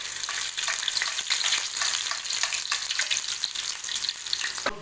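Chopped ginger and garlic sizzle and crackle steadily in hot ghee, a bright, continuous frying hiss close up with a few stirring scrapes and no talking.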